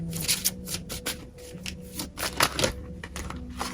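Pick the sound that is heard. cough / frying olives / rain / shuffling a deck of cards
shuffling a deck of cards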